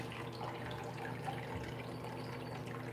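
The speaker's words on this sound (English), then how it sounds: "Got a little waterfall." A small waterfall trickles steadily into an indoor pond, a continuous close splashing and bubbling of water with no talk.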